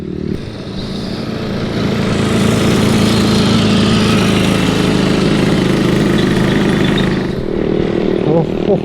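A tractor engine runs steadily and loudly through the whole stretch, a thick continuous drone among grass and leaves where a rake is being pulled, with faint voices in the background.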